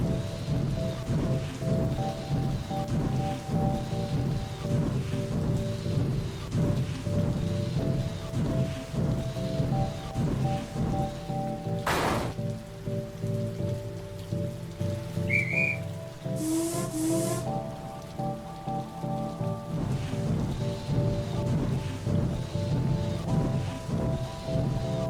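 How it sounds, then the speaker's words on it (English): Light rain falling on damp railway rails on a misty island in a Trainz game scene, a steady hiss throughout with a low engine hum underneath and a couple of brief sharp sounds midway. "One morning, mist shrouded the island, and a light rain made the rails damp."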